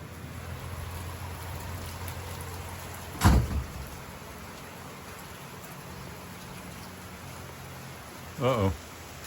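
Steady rain falls on a farm during a heavy downpour, a broad even hiss holding through the whole stretch, broken twice by short louder knocks or thumps, with no talking.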